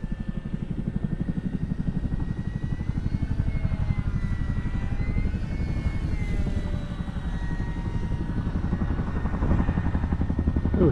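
Dense rotor chopping drones steadily, close and continuous, with a whining engine layered over the heavy pulsing of a Chinook helicopter hovering.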